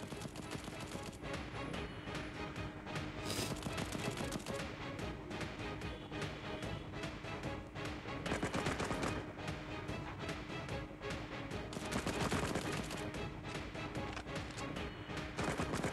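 Rapid bursts of gunfire from the mobile shooting game Cover Fire, dense and continuous with crackling impacts and explosions, loud throughout with no voices.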